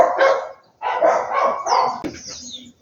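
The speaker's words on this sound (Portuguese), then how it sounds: "Espero os cachorros latir" Dogs bark in several loud, close bursts, with some yips and a bird chirping faintly in the background.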